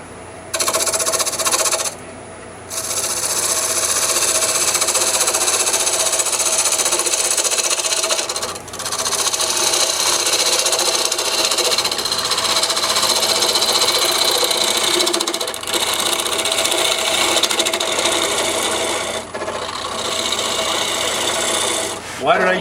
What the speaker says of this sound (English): I'll take a fingernail gouge